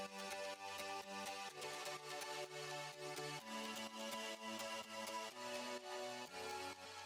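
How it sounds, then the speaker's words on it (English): A bright, buzzy Nexus super saw synth plays beside a piano in an upbeat track, with sustained chords changing every beat or two, loud and continuous, with no talking. "I added this sort of weird super saw from Nexus that goes along with the piano"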